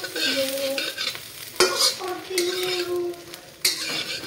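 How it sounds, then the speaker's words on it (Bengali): Bread pieces fry over medium heat while a utensil stirs and scrapes them around the pan, giving a close sizzle broken by sharp clinks and knocks. "হালকা হাতে এভাবে ভেজে নিতে হবে আমার, একদম মিডিয়াম আঁচে আমি এভাবে হালকা করে এভাবে ভেজে নেব ব্রেডগুলোকে।"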